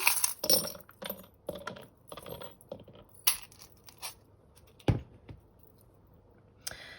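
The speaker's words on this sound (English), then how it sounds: "Just giving them a good shuffle." Irregular light clicking and slapping of tarot cards being shuffled, a quick flurry of taps with a sharper snap partway, close by.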